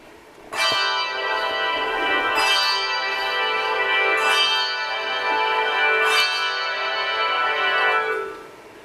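Several church bells in a tower swing for Easter clang in an overlapping, irregular jumble, loud and reverberant, with fresh strikes every couple of seconds before the ringing fades.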